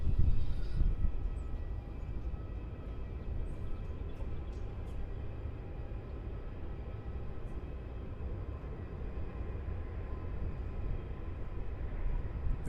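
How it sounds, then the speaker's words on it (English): United Airlines Boeing 777 in new livery, flight UA61 to San Francisco, taking off from Melbourne Airport with a broad, steady engine roar that stays loud and fairly close throughout, without any voices. "UA61 off to SFO in the new livery for the 777"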